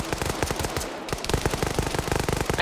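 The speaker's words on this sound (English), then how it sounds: "But the Falcon has a machine gun." Rapid machine gun fire from a Falcon in a video game rattles continuously and loudly, a dense stream of shots with only a brief break partway through.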